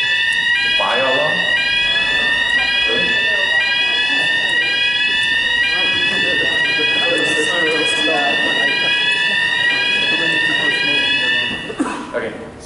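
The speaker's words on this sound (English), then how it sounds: "The fire alarm." A fire alarm rings through a conference presentation room in a loud, continuous cycle of repeating rising electronic whoops. A presenter speaks over it, and the alarm cuts off near the end.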